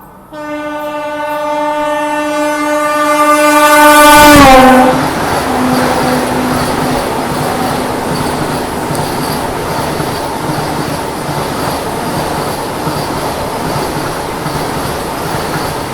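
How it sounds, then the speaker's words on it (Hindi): A Chandigarh–Ajmer Vande Bharat Express overtakes on the adjacent track, opening with a long, loud horn blast that bends in pitch as it passes, then a sustained rushing roar of wheels and carriages continuing close by. "ये आ गई चंडीगढ़ अजमेर वंदे भारत एक्सप्रेस ओवरटेक करने"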